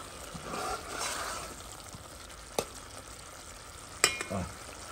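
Rougail sauce for boudin noir simmers and sizzles softly in a pan, a gentle steady frying hiss broken by a couple of sharp utensil knocks against the pan.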